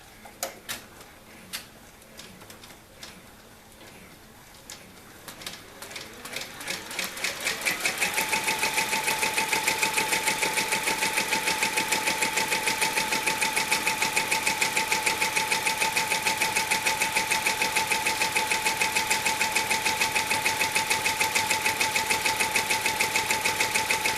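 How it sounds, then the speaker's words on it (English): A sewing machine with an embroidery frame stitches a zipper bag seam: sparse clicks at first, then a loud, steady, rapid stitching hum that runs without a break for the last two-thirds. "I have my frame back on my machine, and I'm going to do the next step."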